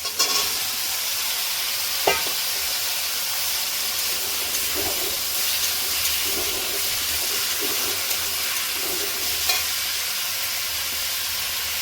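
Potato and eggplant go into a pan of frying onion, green chili and tomato for a prawn curry, producing a loud, continuous hiss of oil with occasional stirring scrapes and one sharp clack, close by.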